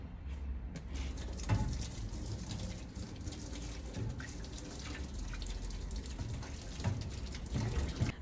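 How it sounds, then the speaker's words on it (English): Steady splashing and pouring hot water rinsing screen filler off a screen-printing screen, constant and close, with occasional drips and faint clinks over the running flow. "so I'm going to go in with a little bit more hot water"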